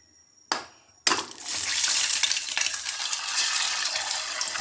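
An egg dropped into a hot pan for frying with tomato, a short splash and then a sudden loud sizzle that settles into a steady close crackling hiss.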